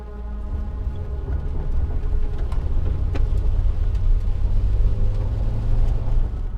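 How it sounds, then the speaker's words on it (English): A car engine rumbling loud and close, a steady low drone that holds throughout as the vehicle pulls away. "Once I heard a car peel away"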